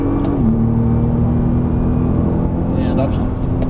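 A Nissan GT-R accelerating hard on a racetrack, its engine a steady loud droning roar that drops in pitch at an upshift, while an instructor talks over it.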